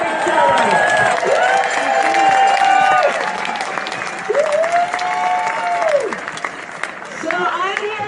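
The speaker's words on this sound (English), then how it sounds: "So a round of applause for showing up for each other." Crowd at an outdoor "No Kings" rally in State College applauds and cheers, dense sustained clapping with whoops and raised voices throughout, loud and close.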